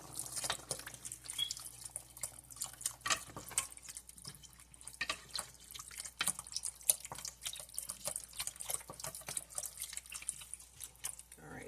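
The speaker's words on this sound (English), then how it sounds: "Pour in chicken broth." Chicken broth poured into a soup pot of tomato sauce for beef and cheese ravioli soup, giving a steady trickling, dripping liquid splash with scattered clinks, low and fairly quiet, and brief speech mixed in.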